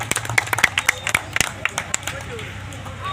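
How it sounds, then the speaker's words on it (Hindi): Scattered audience clapping at a magic show, a loose sequence of sharp individual claps that thins out over a few seconds, over a low background murmur. "थोड़ा ताली बजा दीजिए आप लोग।"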